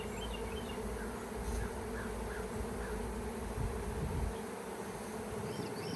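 Honey bees in a hive give off a dense, continuous buzzing drone, steady and close throughout, with no speech.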